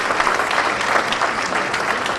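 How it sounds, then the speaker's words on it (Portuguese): An audience at a tribute ceremony for a poet in Maia breaks into sustained applause, a dense, even patter of many hands clapping throughout. "para quem também peço uma salva de palmas para o Sr. Fernando Benavides"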